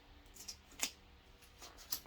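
Scissors snip at tight wrapping on a Coach Western Tabby bag, making a few sharp, close, quiet clicks and cuts spaced through a short stretch, with no speech.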